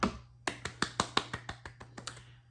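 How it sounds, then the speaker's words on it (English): One person claps about a dozen times, each clap sharp and close with a short decay, in a quick, slightly uneven rhythm that slows and softens toward the end. "Let's give her a clap."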